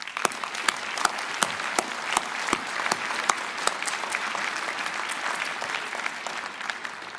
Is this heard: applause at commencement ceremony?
yes